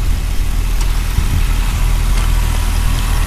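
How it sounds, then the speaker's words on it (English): A 2011 Chevrolet Camaro 2SS idles steadily at a dealership, a loud, continuous low engine rumble with no voices over it. "Nice smooth running engine."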